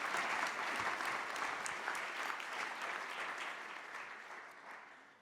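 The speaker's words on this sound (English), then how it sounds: "Let's give her a round of applause" Audience applause at an innovation awards ceremony, a dense steady clapping from a large crowd that holds strong and then slowly tapers off over several seconds, with no talk over it.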